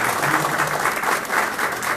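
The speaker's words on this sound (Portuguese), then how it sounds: "gostaria que recebesse uma salva de palmas de todos nós aqui" A meeting audience gives a state deputy a brief burst of applause: dense, steady clapping from many hands, close and fairly loud.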